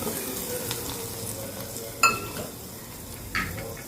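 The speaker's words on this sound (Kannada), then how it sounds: "ಈಗ ನಾನು ಇಂಗು, ಸಾಸಿವೆ, ಕರಿಬೇವಿನ ಒಗ್ಗರಣೆಯನ್ನು ಕೂಡ ಇದಕ್ಕೆ ಹಾಕೋತಾ ಇದ್ದೀನಿ" Hot tempering of asafoetida, mustard seeds and curry leaves is poured into a raw tomato chutney, crackling and sizzling steadily with a sharp metallic clink about halfway and a later burst of spattering.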